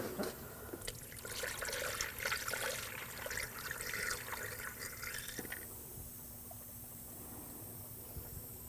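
Engine coolant trickles and gurgles as it is poured into the reservoir of a 2007-2013 BMW 328i 3.0L inline-six, a close, steady liquid flow that thins out to a quiet hum.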